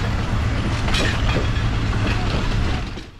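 A train on the Sri Lankan railway between Ella and Demodara rumbles along the track with a loud, steady roar and a faint rhythmic clatter that eases at the end.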